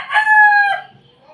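A chicken calls once, a loud drawn-out crow lasting under a second, then quiet.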